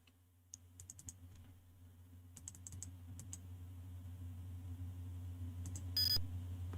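Scattered clusters of keystrokes tapped on a computer keyboard to enter a level code for the 1992 Amiga game Gobliiins, quiet and close over a steady low hum, with a short electronic beep near the end.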